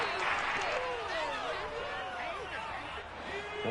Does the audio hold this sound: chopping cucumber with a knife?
no